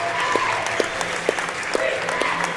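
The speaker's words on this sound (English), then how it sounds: "We will resume the game here with free throws coming as the fans all stand and applaud on both sides" Basketball fans on both sides stand and applaud, a steady wash of clapping through the arena, with a voice talking over the crowd.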